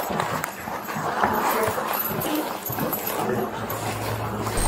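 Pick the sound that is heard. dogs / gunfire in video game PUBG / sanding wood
dogs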